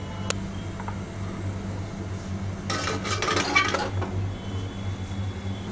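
Metal steamer plates clatter and clink into a metal cooker of hot water for about a second, over a steady low mechanical hum, while steaming bottle gourd muthia.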